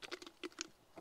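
Grapes crunch and squish as they are crushed by hand, a few quick, faint crackling bursts close up, with no voices.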